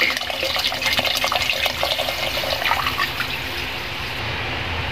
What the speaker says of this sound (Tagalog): Kaya lagyan natin ng tubig.